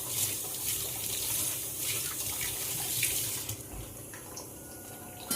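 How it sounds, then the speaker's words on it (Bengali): Water runs from a tap as a container fills, a steady rushing flow that drops to lighter trickling and splashing toward the end; quiet and close, with no speech. "জল ভরছি"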